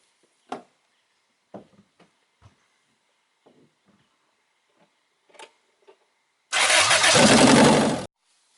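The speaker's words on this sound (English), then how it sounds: "I go to start engine." A few scattered clicks and knocks, then a car engine cranks and catches during a compression test, roaring loudly for over a second before cutting off.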